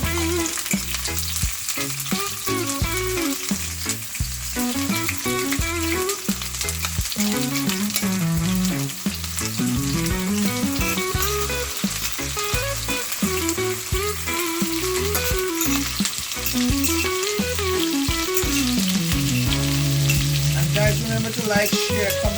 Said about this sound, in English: now we're going to make our sauce for our brown stew fish. So I'm going to saute my onions.